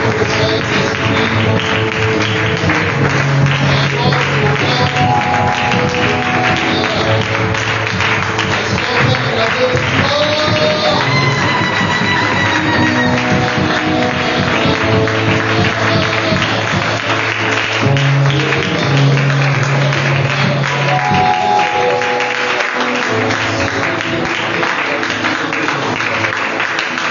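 A church congregation at a prayer gathering applauds and acclaims the Holy Spirit in a long, loud, continuous wash of clapping and cheering. It sits over sustained music with tonal voices, and the clapping rises and falls throughout.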